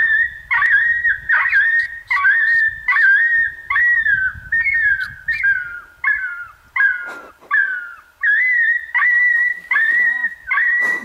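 A dog lets out a run of high, whistle-like yelps and whimpering barks in close repeated bursts, about a dozen in quick succession, with a little low rumble underneath.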